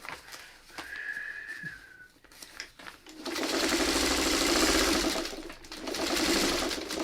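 A sewing machine stitches a quilt with a sharp needle at 25 to 30 stitches per inch, its fast, even motor hum running steadily and fairly loud for several seconds after a quieter stretch with a brief whistle-like tone.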